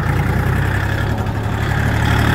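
A new mini tractor's KM385BT diesel engine chugs steadily and loudly up close during break-in driving, a continuous low rumble with no voices.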